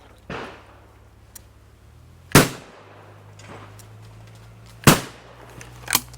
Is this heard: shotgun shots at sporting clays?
yes